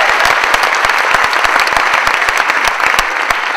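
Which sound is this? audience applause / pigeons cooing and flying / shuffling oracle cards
audience applause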